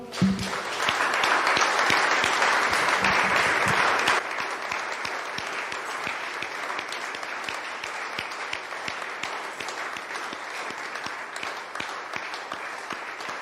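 An evangelical church congregation applauds as an offering of praise, loud and dense at first, then dropping to a slightly softer but steady roar of many clapping hands that continues for a long stretch.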